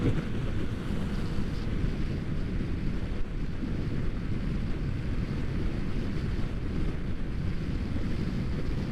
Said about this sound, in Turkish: Rüzgar var aşırı.